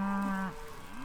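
Cows on a farm low about a week after their calves were weaned. One loud, close moo holds steady for about half a second, then breaks off into quiet background.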